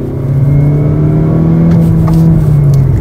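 A Mazda CX-30 with the Skyactiv-X petrol engine accelerating gently, a loud steady engine drone with a rising hum heard from inside the car, no speech.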